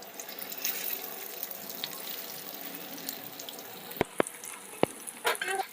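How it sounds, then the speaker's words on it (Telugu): Fish frying in hot oil, a steady close sizzle and crackle running throughout, with a few sharp clicks of a utensil near the end. "ఆయిల్ వేడెక్కిన తర్వాత ఇప్పుడైతే ఫిష్లన్నీ వేసుకోవాలి."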